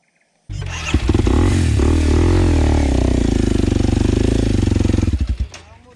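A motorcycle engine labours loudly and continuously on a steep, extreme mountain trail in East Java, with a rough, clattering drone that holds steady for several seconds before easing off at the end.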